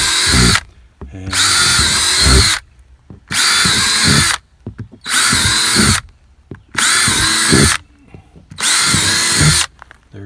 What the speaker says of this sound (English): Just come through with a simple large drill bit here.